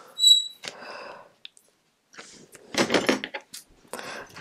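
Scissors cut through a piece of red flock sheet with backing, making several short, close rasping snips in separate bursts with quiet pauses between.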